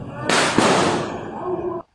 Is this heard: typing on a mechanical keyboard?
no